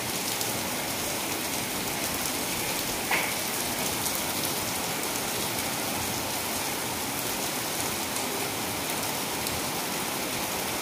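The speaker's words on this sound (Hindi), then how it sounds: "ये देखो कितनी तेज बारिश हो रही है" Heavy rain pours down steadily on surfaces outdoors, a dense, continuous hiss that stays loud and even throughout with no voices.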